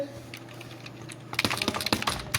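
Typing on a computer keyboard into a text box of a document, with rapid, close key clicks in an irregular burst after about a second of quiet room tone.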